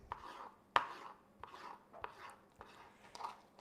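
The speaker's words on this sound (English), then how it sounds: "I'm just chopping everything up and I'm chucking it in the bowl" A knife chops diced ham on a board, giving about six crisp, quiet taps at an uneven pace with one sharper knock, and no talking.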